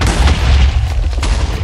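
A deep, rumbling explosion in a Minecraft Bed Wars match, a heavy low boom that fills the short moment and fades without a clear sharp attack.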